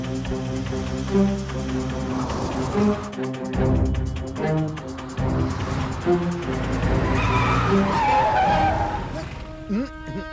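A car skids on a road with a loud tire squeal over engine noise, set within a dense, layered mix of other sounds that continues for several seconds.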